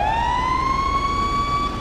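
A police car siren in the Grand Theft Auto 5 video game holds one steady, loud wailing tone alone for a brief moment.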